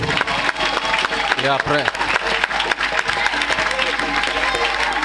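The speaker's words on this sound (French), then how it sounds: "Acclamation." A crowd at a Christian gospel convention in Korhogo bursts into applause and cheering, dense clapping with shouts over it and a brief spoken voice in the middle.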